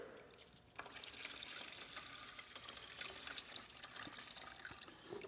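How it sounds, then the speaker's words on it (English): Fluid poured over contents held in a kitchen sieve, a steady soft splashing trickle with faint drips, quiet and continuous throughout. "I'm going to pour a little bit extra fluid over it."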